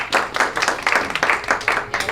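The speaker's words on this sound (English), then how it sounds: "let's give him a big round of applause" Brisk clapping from a seminar audience, a dense rhythmic patter of many hands applauding at steady volume.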